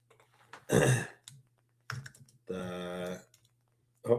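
Keyboard typing in a few short, close bursts separated by quiet pauses.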